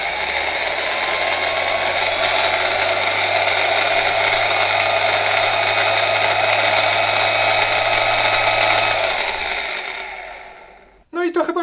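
A PRCa-16 electric drill runs steadily and loudly for about nine seconds with a constant whine, then winds down and stops, followed by brief clatter.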